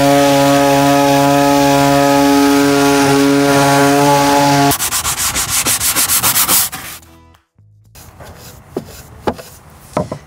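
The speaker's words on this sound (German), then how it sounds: "schleife ich das Ganze jetzt von innen ab" A power sander grinds loudly and steadily against the inside of a wooden insect hotel box, then shifts to rougher scraping and rubbing strokes before stopping.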